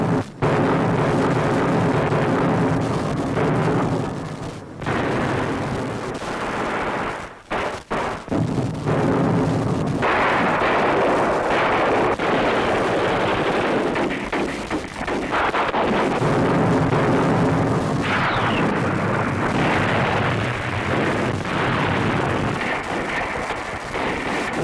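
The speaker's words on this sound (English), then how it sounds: "As an artillery duel begins, soldiers freeze in their positions." Artillery fire from a World War II battle at Stalingrad roars continuously and loudly, with heavy booms and blasts blending into a dense, rumbling barrage that barely lets up.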